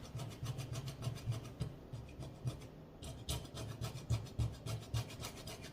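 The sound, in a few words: scrubbing burnt sugar off stove top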